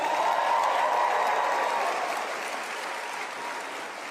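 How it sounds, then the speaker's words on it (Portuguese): Audience applause for Charlie Kirk, a dense, steady wash of many hands clapping that fades slightly toward the end, with no voices over it. "Então vamos aplaudir o Charlie Kirk"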